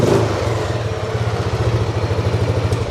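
A 2005 Buell Blast motorcycle's single-cylinder engine idles close by with a deep, loping thump, its steady rhythmic pulses slightly uneven and continuing alone without talk.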